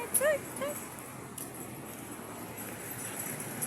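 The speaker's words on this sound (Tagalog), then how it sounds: "Ano yung aso dito?" A few brief, high-pitched dog yips or whimpers near the start, then quiet background hum.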